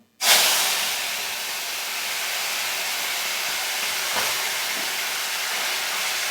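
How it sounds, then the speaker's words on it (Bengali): Amudi fish hit hot oil in a wok with a sudden loud burst of hiss, which settles into a strong, steady sizzle with a faint crackle midway. "কড়াইতে আমি তেল দিয়ে দিয়েছি তেল গরম হয়ে গেছে এবারে মাছগুলোকে ভেজে নেব"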